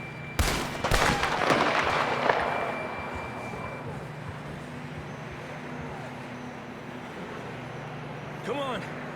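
Gunfire rings out in Red Dead Redemption 2, a burst of sharp, loud shots in quick succession early on that fades into rumbling ambience, with voices speaking throughout.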